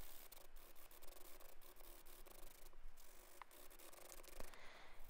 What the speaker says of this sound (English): I'm going to begin finish filing the nail